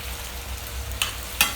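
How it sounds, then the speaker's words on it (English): Turkey and potatoes sautéing in a pan, a steady low sizzle broken by a couple of sharp scraping stirs near the end, close by with no speech. "Make sure you stir it up every now and then so everything evenly sautés and cooked good"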